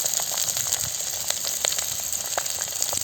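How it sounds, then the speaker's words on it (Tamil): Onion sizzling in hot oil with fennel seeds and curry leaves in a village-style squid noodle dish, a steady close crackle with scattered sharp pops throughout. "நல்லா பொரிஞ்சதும் பெரிய வெங்காயம் கட் பண்ணி வச்சுருக்கேன், அதை சேர்த்துக்கலாம்."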